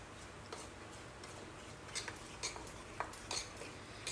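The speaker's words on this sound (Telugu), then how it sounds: "ఈ విధంగా బాగా కలుపుకోవాలి మొత్తం కరిగిపోయింది చూడండి" A spoon stirs cold milk in a bowl, giving faint, scattered clinks and light taps against the side at an uneven pace, quiet and close with no talking.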